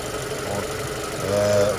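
Jeep Cherokee 2.4 engine idling on petrol, a steady, close, low mechanical rumble with an even rhythmic knock that swells slightly near the end.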